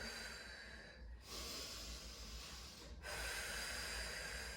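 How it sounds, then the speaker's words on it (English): Deep breath drawn in and then blown out slowly during a pregnancy yoga session, two long airy breathy swells close to the mic with no talking. "you can do that deep breath in and then blowing the air away"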